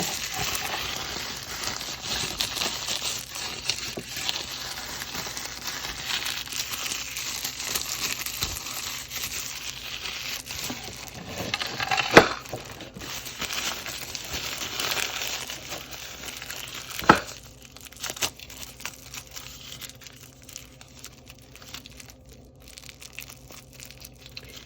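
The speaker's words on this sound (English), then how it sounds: "Take off that plastic wrap and expose the container right here." Plastic wrap peeled and crinkled off a Samyang hot ramen container, close and fairly quiet, a long stretch of continuous crackling and rustling with a few sharper snaps before it eases off.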